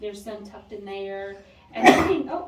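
A single sharp sneeze bursts out loudly near the end, right after someone speaks inside a cave.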